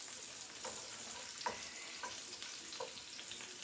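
Onions softening in leftover pork chop fat and grease in a pan, a quiet steady sizzle with a few spoon-stirring knocks at irregular intervals.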